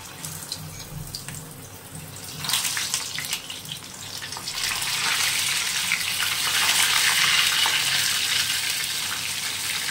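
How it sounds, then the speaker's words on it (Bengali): Prawns double-frying in hot oil for a golden fry, a steady crackling sizzle that grows louder and denser partway through and then holds close and continuous with no talking. "একবার ভেজে নিয়েছি, আবার ডবল করে ভেজে নিচ্ছি"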